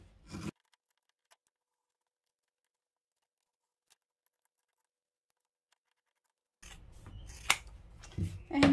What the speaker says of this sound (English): We're going to trim the corners. We don't need all that bulk when we turn the bag through.